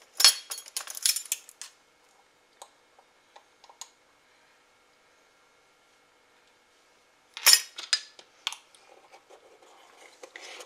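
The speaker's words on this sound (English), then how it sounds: "Stir in 1/2 teaspoon of cinnamon." Spoon clinks and scrapes against a dish while cinnamon is stirred into baked butternut squash and apples, with two bursts of clatter separated by a stretch of near silence and a few faint taps.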